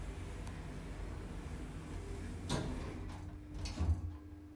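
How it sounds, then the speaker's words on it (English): Lift doors slide shut at Dun Laoghaire Mallin Railway Station, Dublin: a soft rumble of the moving doors followed by a muted thud as they meet, set against a steady hum of machinery. "Doors closing."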